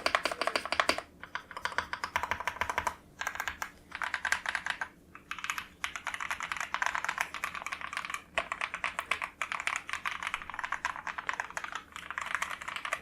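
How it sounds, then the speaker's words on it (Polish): Rapid, close typing on a Keychron V6 Ultra mechanical keyboard with Brown switches, dense soft clacks in bursts with short pauses, no voices. "Jedne z cichszych przełączników Braun, z jakimi miałem kontakt."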